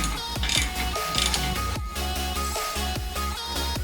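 A ratchet fitted with a universal joint tightens a brake caliper bolt on a 2019 Subaru WRX, giving quick rhythmic metallic clicking in short bursts. The clicking is close and quiet, with no talking.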